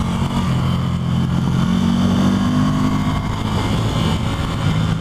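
A small Ducati Scrambler motorcycle ridden hard along a twisty canyon road, its engine droning loud and steady at high revs with wind rush throughout and no talking.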